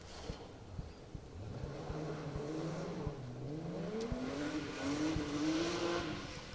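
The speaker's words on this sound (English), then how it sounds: "such a smooth engine now, hasn't it?" A rally car engine revs at a distance during a two-wheel-drive stage of the Woodpecker Stages Rally, its pitch climbing steadily as it passes, over faint outdoor background noise.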